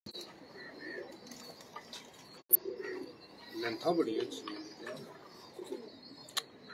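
Pigeons give soft, low cooing in the background while someone talks nearby, with a sharp click partway through and faint chirps scattered around the calls.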